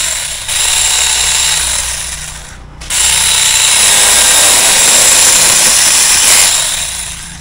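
A loud, steady power-tool whine with rough buzzing runs nearly the whole time, broken by a brief pause near the start, as a cheap cordless electric saw cuts through a tree branch.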